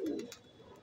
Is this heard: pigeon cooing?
yes